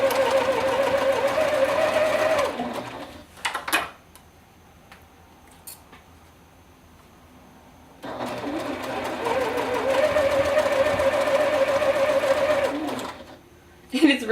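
A sewing machine stitches tucks along a bag seam in two steady runs of rapid mechanical whirring and clatter, separated by a quiet pause with faint handling sounds, while a person speaks.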